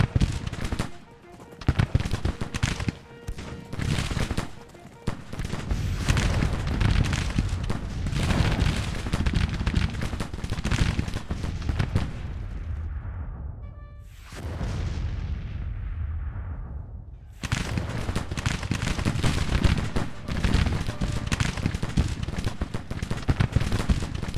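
Musket volleys and cannon blasts crackle almost nonstop across a Civil War video game skirmish, dense and loud, dropping to a brief lull partway through before the firing surges back.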